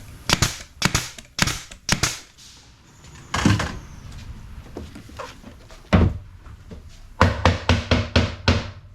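A brad nailer drives brads into a cabinet drawer front on ready-to-assemble cabinets, giving a series of sharp, close snapping shots in quick clusters with brief pauses between groups.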